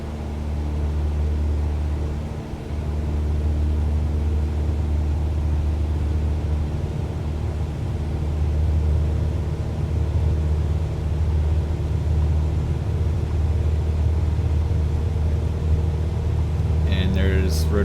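Cessna 172 engine at full takeoff power in Microsoft Flight Simulator 2020, a steady, loud droning hum with a constant low tone holding throughout.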